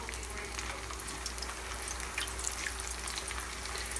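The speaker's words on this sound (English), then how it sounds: "So we've heated our canola oil and now we're going to put our tostones in." Tostones frying in hot canola oil, giving a steady, even hiss of bubbling fat with a faint low hum running underneath, unbroken for the whole stretch.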